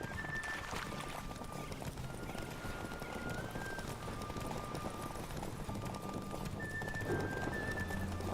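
Hooves drum in a steady, dense gallop in a video game horse race in The Witcher, under constant noisy ambience, with faint tonal whistles now and then, several horses running together.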